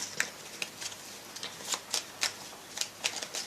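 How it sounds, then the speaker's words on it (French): A Kuan Yin oracle card deck handled and shuffled, with a series of soft, crisp card flicks and slides in irregular quick bursts, close and quiet, no speech. "je vais prendre une petite carte"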